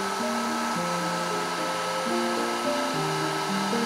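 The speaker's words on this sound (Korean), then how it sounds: "먼저 드라이기로 열을 가해줍니다" Steady whooshing roar of a hair dryer heating the feet of a Logitech G102 mouse at close range, blowing continuously with a faint shifting hum.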